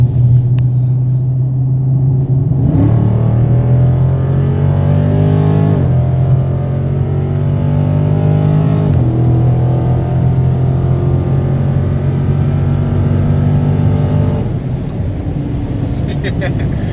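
A 2019 Dodge Charger 392 V8 engine revs and accelerates from inside the car, a loud, steady rumble climbing through gear changes with pitch sweeps rising and dropping over several seconds.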